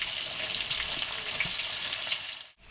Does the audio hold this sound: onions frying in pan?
yes